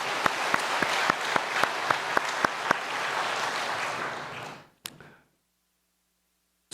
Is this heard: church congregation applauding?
yes